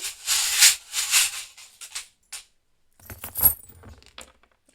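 Small metal pieces jingle and clink in bursts as they are picked up and shuffled, close by, with brief pauses between handfuls.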